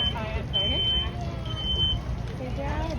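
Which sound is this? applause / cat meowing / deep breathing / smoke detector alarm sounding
smoke detector alarm sounding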